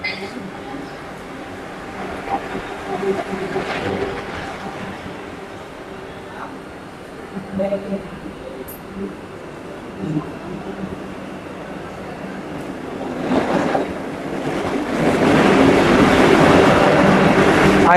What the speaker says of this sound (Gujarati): ભાઈ અહીંયા આપણી અરાઇવ લઈ રહી છે 22926 Okha Ahmedabad Vande Bharat express Viramgam junction railway station ઉપર.